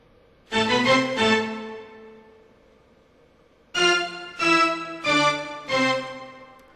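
Six plucked string notes in octaves, two close together, a pause, then four spaced hits, each ringing and decaying cleanly with no talking.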